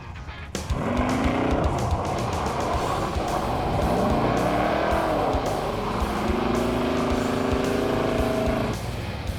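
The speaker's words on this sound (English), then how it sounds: "the guy who owns the station told us to do donuts" A car spins donuts at a gas station in Muddy Gap, Wyoming, its tires squealing loudly and continuously for several seconds over a revving engine that rises and falls.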